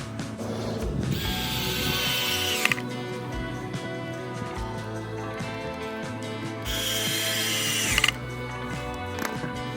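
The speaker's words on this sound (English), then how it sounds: "I will reinforce it with some screws on each side." Screws driven into a scrap-wood book holder with a ratcheting driver, two long bursts of grinding drive noise around a steady mechanical whir, close and fairly loud, with a couple of sharp ticks as the screws seat.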